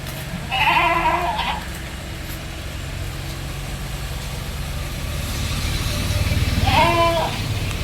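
Goats bleating in a livestock sale yard, two separate calls several seconds apart, with a constant low hum and passing engine-like rumble underneath.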